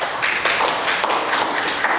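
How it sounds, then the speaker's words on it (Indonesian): A class of students claps together during a physics lesson on Torricelli's theorem, a brief burst of fairly loud, dense hand clapping that fills the room. "kita beri tepuk tangan ya"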